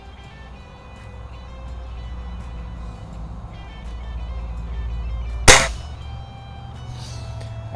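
A Crosman Optimus .177 break barrel pellet rifle fires a single sharp crack in a backyard while plinking at 20 yards, standing out loudly against quiet outdoor ambience.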